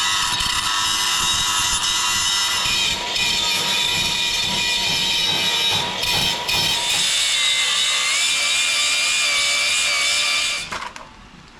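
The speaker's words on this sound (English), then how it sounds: "So let's sand that down" A power sander works on a 1956 VW Beetle gearbox casing with a loud, continuous high-pitched grinding whine that shifts in pitch midway and cuts off at the end.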